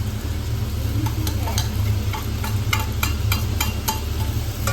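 Spices sautéing in a pan while making restaurant-style baby corn soup, with a steady low sizzle and a series of short scraping stir strokes throughout, close and fairly loud, no talking.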